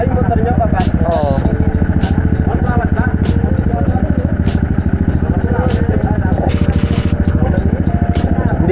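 A motorcycle on a ride toward a cave, its engine throbbing steadily and loudly throughout while people talk over it.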